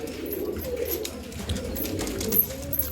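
Pigeons in a backyard pigeon cage, including Guldar and Dhumar breeds, give soft low cooing calls over a faint steady background hum, with no speech.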